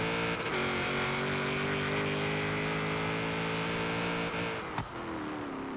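A Ford Mustang Boss 302 engine in Forza Horizon 3 drones steadily under hard acceleration, holding a loud, sustained rising note with a brief dip and shift near the end.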